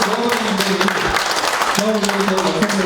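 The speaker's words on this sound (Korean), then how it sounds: "박수 한번 주세요" A crowd at a small-scale apartment reconstruction briefing applauds continuously while people keep talking loudly over the dense clapping.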